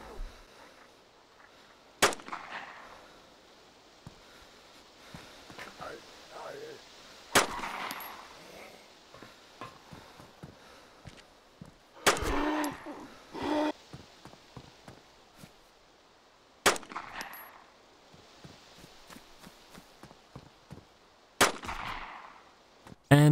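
Glock 19 pistol shots in the survival game DayZ: five loud, sharp single reports spaced several seconds apart, with quieter footsteps and movement sounds filling the gaps between them.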